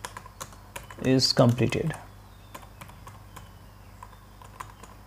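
Computer keyboard keys tapped in a short quick burst, then scattered single clicks, close and crisp, with a voice speaking over the typing.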